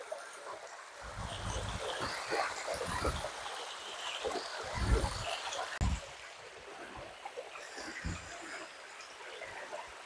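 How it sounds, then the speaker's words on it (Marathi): Water rushes and flows at the base of a waterfall, a steady broadband wash heard close up, with intermittent low wind buffeting on the microphone; no talking. "वरती धबधबा आहे, खाली बघा पाणी वाहतंय"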